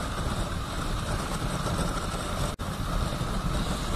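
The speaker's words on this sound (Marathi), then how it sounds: "ते इंजिन फास्ट केलं." A car engine runs steadily at raised revs during a Goa to Mumbai drive near Kashedi Tunnel, with the accelerator cable tightened, giving a continuous broadband drone and one brief dropout partway through.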